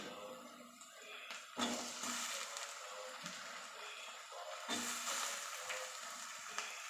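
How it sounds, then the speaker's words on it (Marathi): Tomatoes sizzle in a hot pan with onion, cumin and asafoetida, a steady close frying hiss broken by a couple of louder bursts as the pieces are stirred. "टोमॅटो छान फ्राय करून घेऊया"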